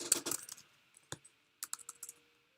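Keys clatter on a computer keyboard in a few quick bursts of taps separated by short pauses, close and fairly quiet.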